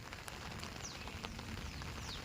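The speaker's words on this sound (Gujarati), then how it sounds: "વરસાદ વરસી થોડો થોડો ધીમો થઈ ગયો છે" Soft, steady patter of light rain falling on surfaces, faint and even, with occasional distinct drips.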